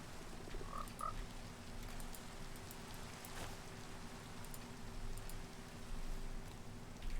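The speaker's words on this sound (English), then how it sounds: "And now the frogs are going towards the water to lay the frog spawn." Frogs croak repeatedly in Minecraft as they hop toward water to lay spawn, the calls fairly close and steady over soft rain-like ambient texture, with no talking.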